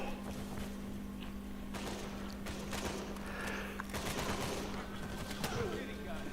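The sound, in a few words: gunfire in video game Uncharted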